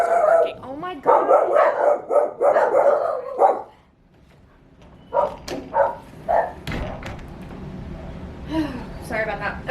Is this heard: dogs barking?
yes